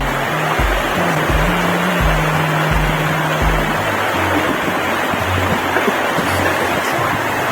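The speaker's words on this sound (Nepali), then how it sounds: "let's listen the sound of water" A loud, steady rush of flowing river water fills the scene during an off-road motorbike ride, with a low engine-like drone underneath for the first few seconds.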